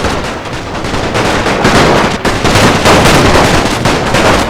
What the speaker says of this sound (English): Now these guys are shooting now